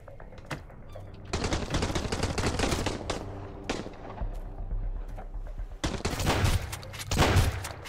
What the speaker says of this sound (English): Man, look at the range of this shotgun, it is insane.